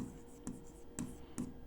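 A pen writes on paper during a Class 9 maths lesson on surface areas and volumes, with faint scratchy strokes coming in short bursts at a steady pace, close but quiet, and no talking heard.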